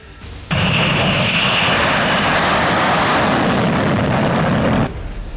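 Aircraft engines roaring at Stryi military airfield near Lviv in 1993 footage, a loud sustained engine roar that starts abruptly and holds steady, then cuts off near the end.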